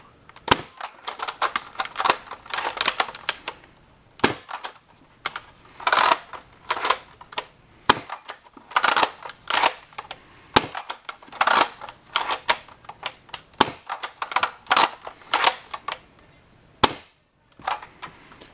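A modded Nerf Longstrike blaster with an OMW Immortal kit firing Elite darts from a 6-dart clip, a long string of sharp, loud cracks in rapid bursts separated by brief pauses, close by with no voices.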